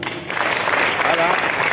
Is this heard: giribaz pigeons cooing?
no